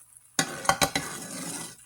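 Salt mackerel rundown simmering and boiling down in a pot, a steady bubbling sizzle with a few sharp clinks and stirring scrapes near the start, close and fairly loud with no talk.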